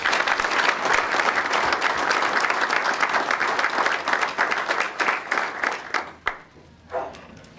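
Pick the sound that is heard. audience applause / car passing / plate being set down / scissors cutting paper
audience applause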